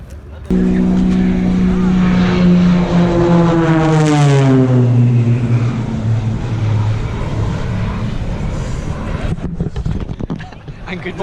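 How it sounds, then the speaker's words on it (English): A stunt plane flying low in front of the pits at Kyalami race track during the 9-hour race, its loud propeller drone sweeping past with a falling pitch as it passes close and fades, then distant crowd noise. "we've got an absolutely crazy guy in a plane doing crazy stuff right in front of the pits"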